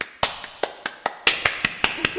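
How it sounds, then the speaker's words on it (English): About ten sharp, close hand claps from just one or two people, evenly spaced and fairly loud, each cracking out clearly over a quiet room. "Yeah, round of applause."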